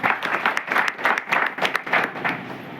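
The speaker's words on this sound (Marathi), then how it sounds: "त्यांच्यासाठी पुन्हा एकदा जोरदार टाळ्या वाजवा" Brief burst of hand clapping from a small group at an award ceremony, lively and irregular, fading out toward the end.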